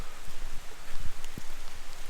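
Steady rain falls on a dark, gloomy day in the woods near a waterfall, a dense, even patter with a few sharper drops hitting close by.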